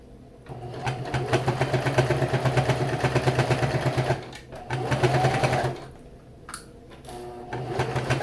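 A sewing machine stitches around a holiday fabric coaster in steady, rapid bursts. It pauses briefly near the middle, resumes, then stops for a corner pivot before restarting softly. The sound is close, mechanical and continuous, with no talking.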